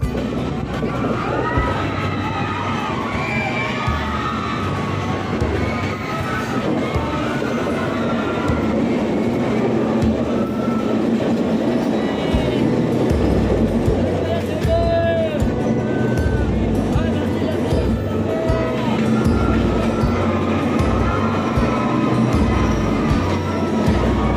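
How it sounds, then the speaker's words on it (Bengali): A passenger train on the Vizag to Araku hill line winds along a mountain railway with tunnels and bridges, heard from inside as a loud steady rumble with rhythmic wheel clatter and squealing, and people talking over it. "পাহাড়ের আঁকাবাঁকা রাস্তা দিয়ে রেল লাইন আমাদের নিয়ে চলেছে বোরাগুহালুর উদ্দেশ্যে"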